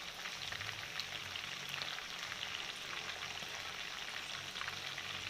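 Chicken pieces frying in a pan for a chicken roast, giving a steady, fairly quiet sizzle with fine crackling and popping throughout, and no talking.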